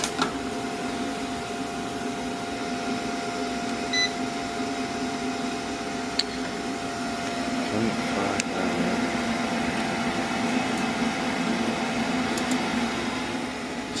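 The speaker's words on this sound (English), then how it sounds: "System pump is on. This is a system pump." A circulator pump on a Lochinvar Knight boiler system hums steadily at close range with a constant tonal drone, broken only by a few faint clicks.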